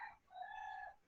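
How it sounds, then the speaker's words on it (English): Roosters crow from a compound, a faint distant cock-a-doodle-doo with a short note and then a longer drawn-out call, heard alone. "that's roosters from the compound"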